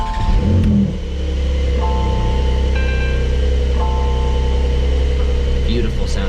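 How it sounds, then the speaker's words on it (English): A 2023 Porsche 911 Targa 4 GTS engine idles with a steady low rumble, close and continuous, with faint higher tones drifting over it and no talk. "Beautiful sounding engine."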